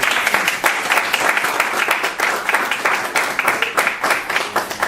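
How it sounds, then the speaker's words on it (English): Luncheon crowd at a Bleu Devils weekly coaches' gathering gives the standing football players a round of applause, close, loud clapping from a modest room with an uneven, pulsing rhythm sustained throughout. "If y'all just stand up for a minute, give them a round of applause."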